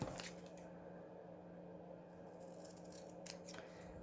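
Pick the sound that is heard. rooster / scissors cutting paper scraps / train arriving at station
scissors cutting paper scraps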